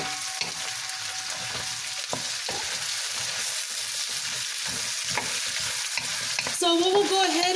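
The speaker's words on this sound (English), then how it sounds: "So I'm gonna go ahead and add my string beans now." String beans stir-fry in a hot pan with steady loud sizzling and repeated scraping and tossing of a utensil, then a brief high squeak near the end, no talking.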